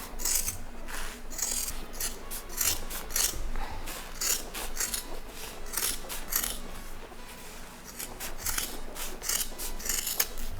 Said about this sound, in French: Donc là on découpe tout le surplus de tissu